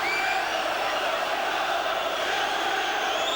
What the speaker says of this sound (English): They were up roaring their abuse at their former player then.